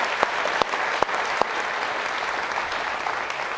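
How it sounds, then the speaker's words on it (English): An audience at a Georgetown Law School event applauds a graduate, producing sustained, dense clapping with a few sharper individual claps standing out near the start. "Round of applause for Jane, please."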